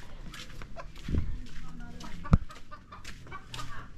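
A chicken clucks in short bursts nearby, with people talking and moving around it and a sharp thump partway through.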